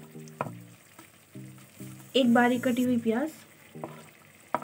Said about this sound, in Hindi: ये हमारे चिकन के पीसेस पकने शुरू हो चुके हैं।